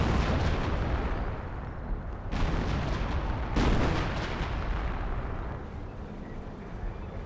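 Artillery barrage pounding an opponent's base in Company of Heroes, a continuous rumbling roar of distant blasts with a couple of heavier booming surges, steady and dense throughout.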